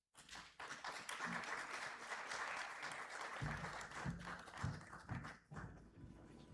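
An audience breaks into steady applause for graduates at a university spring conferring ceremony, loud and sustained with a few closer claps standing out.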